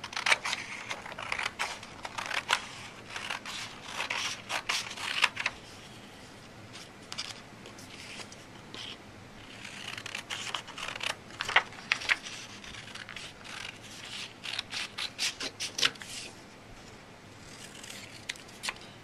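Velcro scissors snip and cut while laminated visual-strategy pictures are trimmed, giving a steady run of close, crisp clicks and snips with short pauses throughout.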